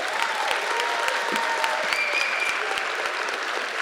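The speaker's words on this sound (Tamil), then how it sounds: "இன்னும் பலமாகவே கைத்தட்டலாம்" An audience at a Tamil debate event hosted by Atlanta Tamil Mandram claps loudly and steadily. The dense applause fills the whole stretch without a break.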